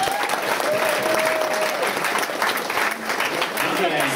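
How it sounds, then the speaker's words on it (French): Sustained applause from a crowd at a cocktail event, dense steady clapping throughout, with a faint voice or tone briefly audible beneath it. "oui, on peut l'applaudir"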